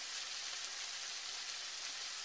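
Beef browning in a soup pan on a stove, a steady, faint, hissing sizzle with no pauses.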